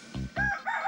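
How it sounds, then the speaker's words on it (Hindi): A short, close crowing burst from a rooster, a couple of rough rising syllables lasting under a second, loud and alone. "वो रहा आपका मुर्गा। अब बड़ा ही खतरनाक है, सीधा अटैक कर देता है।"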